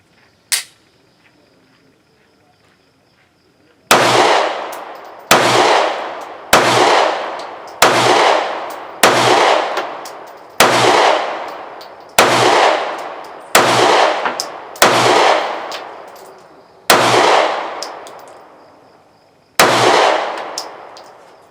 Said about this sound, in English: But we'll try another mag to see how it shoots.